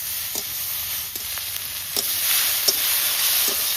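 Bhola river fish and a few shrimp fry in a pan over a wood fire. The oil gives a steady, close hiss, broken by the regular scrape and knock of stirring.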